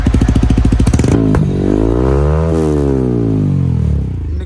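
A Yamaha R15 V4 with an R9 full-system exhaust revs up close and loud, its pitch climbing, peaking and falling back in one sweep, with no talk over it.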